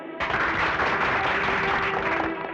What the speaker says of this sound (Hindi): इधर आप लोग तालियां बजा रहे हैं